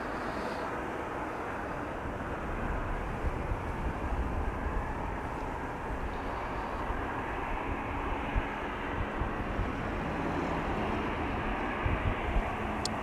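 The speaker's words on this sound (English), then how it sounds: "Next airplane coming this way is an A320 from Air Arabia Maroc." Airbus A320 airliner of Air Arabia Maroc departing Amsterdam Schiphol Airport, heard as a steady, broad jet roar lasting the whole stretch with some wind buffeting and no talk.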